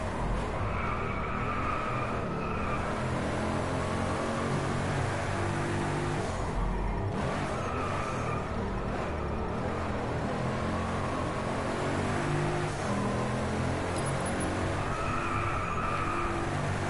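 A Pagani Huayra supercar engine in the Driveclub racing game on a Canadian rally course roars steadily and loudly throughout, with revs rising and dipping through gear changes and bursts of tire squeal.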